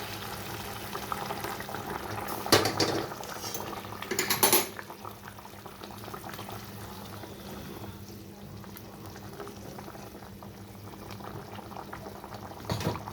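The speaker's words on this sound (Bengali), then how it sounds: "এখানে আমি দিয়ে দিচ্ছি গরম জল, আগের থেকে গরম জলটা করে রেখে দিয়েছি।" Hot water is poured into fried masala for a chitol fish curry, bursting in two loud splashy pours, then a steady low bubbling simmer carries on.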